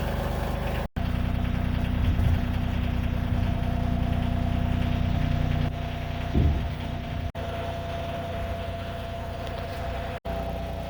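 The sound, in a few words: tractor engine running while lowering a beam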